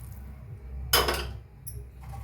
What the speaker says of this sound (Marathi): आता ह्याच्यात ओतूया आपण गरम पाणी.